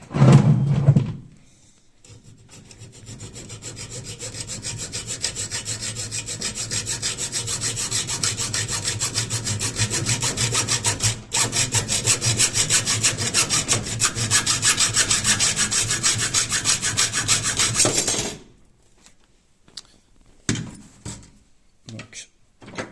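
Hand saw cutting through the rod of a manual roller shutter crank handle, with steady, continuous rasping strokes up close for about sixteen seconds, followed by a few scattered knocks and clatters.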